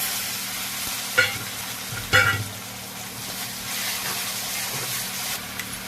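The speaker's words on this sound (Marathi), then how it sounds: "आता मसाले टाकून घेते मसाला भाजले टमाटर टाकून घेते" Spices and tomatoes frying in a home-cooked pan, a soft steady sizzle with two sharp bursts as ingredients hit the hot oil, plus occasional stirring scrapes, close by and without voices.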